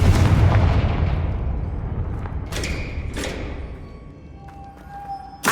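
A Confringo blast spell goes off in Hogwarts Legacy with a heavy booming explosion that rolls away and fades, followed by a few lighter magical pops and faint ringing tones.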